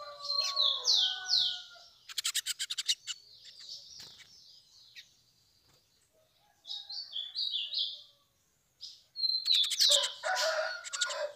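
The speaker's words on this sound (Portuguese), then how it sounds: "Esse passarinho tá cantando, tico-tico, azulão" Tico-tico and azulão songbirds sing nearby in a quiet outdoor setting, trading bright whistled phrases and rapid trills in bursts separated by short silences.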